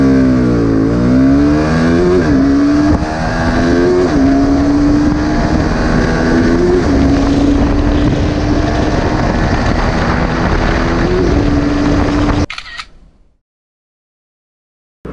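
KTM RC 200 motorcycle accelerating hard from a standstill to 100 km/h, engine note climbing through several gear changes as a loud, close, sustained rising whine that cuts off abruptly near the end.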